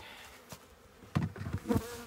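Honey bees at an open hive during a spring hive check give off short, intermittent bursts of buzzing. The bursts swell up close and then fade, with no speech.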